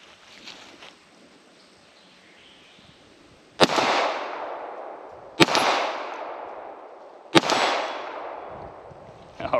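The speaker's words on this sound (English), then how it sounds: "just a couple of rounds with Fox in the high cap" Three sharp Makarov 9x18 pistol shots from a high-capacity magazine ring out outdoors, evenly spaced about two seconds apart, each loud crack trailing into a long fading echo.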